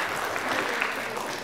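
Audience applause at a school book quiz contest, a dense steady burst of clapping throughout the short moment.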